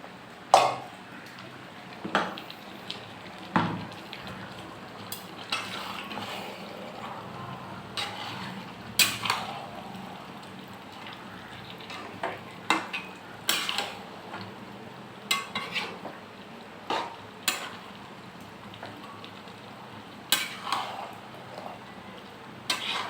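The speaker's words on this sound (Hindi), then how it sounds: "अभी आलू डाल देंगे।" Potatoes go into a mutton curry in a pan in an Odia home kitchen, with intermittent metal clinks and scraping from stirring over a faint, low sizzle.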